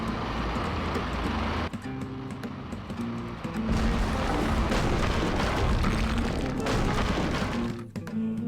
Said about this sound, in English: Next, an explosion takes place that was set up by the Punchinello and Lupino's guys in the Roscoe Bank's vault.